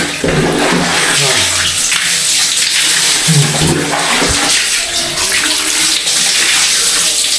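Cold water pours and splashes steadily during a bath, a continuous loud gush with irregular sloshing surges and no talking over it.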